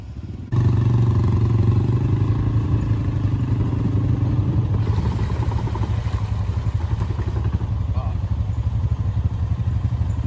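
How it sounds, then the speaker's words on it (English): A 2020 Honda Rubicon ATV engine runs loud and close after mudding, a steady rough rumble that carries on throughout, with a clattering sound partway through. "Is it idling, Brandon?"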